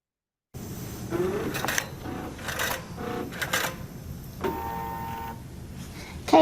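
A computerized quilting machine stitches out a border design, starting after a moment of silence with a steady mechanical whirring that pulses and shifts in pitch as the needle travels.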